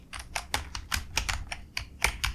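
Code for smart contract tests is typed on a computer keyboard, a brisk, close run of crisp keystrokes with irregular rhythm and brief pauses, and no voices.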